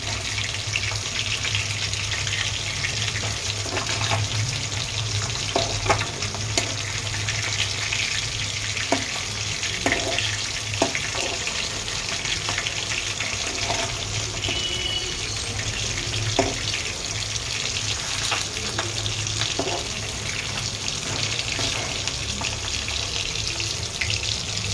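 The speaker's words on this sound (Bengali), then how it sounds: "এরপরে আর একবার এইভাবে উল্টিয়ে দিলে আমার মাছ ভাজা রেডি হয়ে যাবে" Fish frying in hot oil gives a continuous sizzle, close and fairly loud, broken by scattered sharp pops and crackles over roughly twenty-five seconds with no talking.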